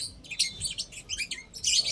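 Birds chirp in an open lot, a quick series of thin, high tweets coming in bursts at a moderate distance with quiet gaps between calls.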